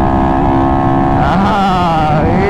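A motorcycle engine with a 63.5 bore setup revving, loud and close, holding a steady buzzing drone before the pitch climbs and wavers as the throttle opens further.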